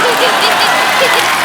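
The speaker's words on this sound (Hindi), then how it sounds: "ठोको ताली ठोको।" Studio audience applause on a Hindi comedy talk show, a loud, dense burst of clapping and crowd noise filling the whole short moment.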